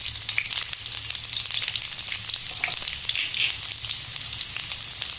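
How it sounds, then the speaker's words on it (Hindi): Onions and spices sizzle and fry in hot oil for a Bangalore-style black pepper curry, a steady bright crackle running throughout with no voices. "ऑयल गर्म हो जाता है, इसमें हमें मसाले डालेंगे। इसमें हमें रायन डालेंगे पहले, इसमें प्याज डालेंगे"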